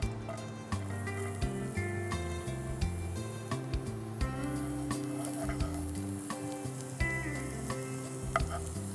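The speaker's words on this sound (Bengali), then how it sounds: "জাস্ট আমরা পেঁয়াজটা ভেজে নেব" Chopped onion frying in a little ghee as a filling for yogurt-stuffed potato chops, a steady moderate sizzle broken by regular spatula stirs and scraping taps against the pan, no talking.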